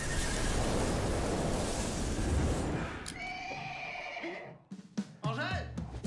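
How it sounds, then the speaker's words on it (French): A black horse neighs after a stretch of loud noise, the whinny rising clearly and followed by a few shorter snorting calls, with talk nearby. "Un cheval noir pour Charlie."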